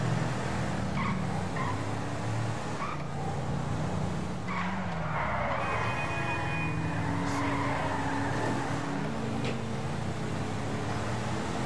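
A car in GTA V drives hard with repeated tire squeals and skids over a steady engine roar, the squeals rising and falling in pitch as it slides through turns.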